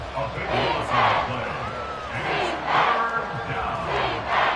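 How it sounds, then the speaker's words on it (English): A football stadium crowd in a video game roars in steady rising and falling swells, loud and continuous, with game commentary voices over it. "This crowd turning up the decibel level."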